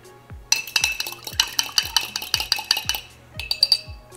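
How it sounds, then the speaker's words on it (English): A spoon stirs lemon juice or vinegar into milk, clinking sharply and rhythmically against the side of a bowl or cup, about a dozen close, bright taps in a steady beat with a short pause before the final few. "Give it a little stir."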